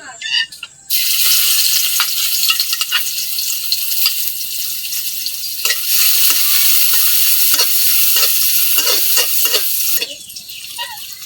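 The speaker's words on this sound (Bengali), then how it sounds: "পেঁয়াজ রসুনটা ভাজা হয়ে গেছে" Onion and garlic fry in hot oil as the base for a village-style tilapia fish-head and bottle gourd curry: a loud, close, steady sizzle with occasional clinks from stirring, fading at the end.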